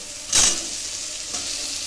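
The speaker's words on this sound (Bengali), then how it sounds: "এবার আমি সব সবজিগুলো দিয়ে দিচ্ছি।" Raw vegetables dropped into a pan of frying spices for a chicken stew, a sudden close sizzle burst followed by a steady hot frying hiss.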